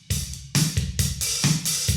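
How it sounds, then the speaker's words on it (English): A drum kit played with a steady groove, kick thumps and snare hits roughly every half second under a wash of cymbals, picked up by room mics across the room with roomy, open ambience. "So the room mics will sound something like this."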